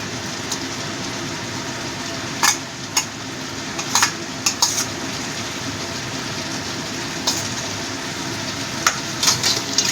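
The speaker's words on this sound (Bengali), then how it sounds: "এবার এটাকে কষাতে থাকবো। এর মধ্যে দিয়ে দিচ্ছি ফুলকপিগুলো।" Cauliflower florets tossed and sautéed in a pan with koi fish masala, a steady broadband frying hiss with scattered sharp scrapes and clinks of a spatula, close and continuous with no voice.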